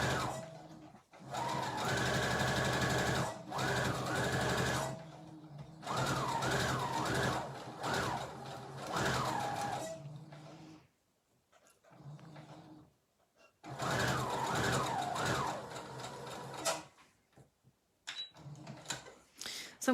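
A sewing machine stitching a straight bolster cushion seam runs in several bursts of a few seconds each, whirring steadily with short pauses between runs, close and clear.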